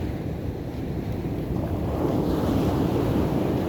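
Strong ocean surf roars against the shore at San Juan, La Union, a steady, loud low rumble of crashing waves with wind buffeting the microphone throughout, no voices present.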